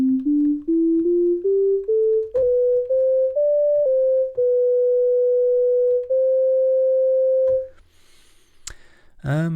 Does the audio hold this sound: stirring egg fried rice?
no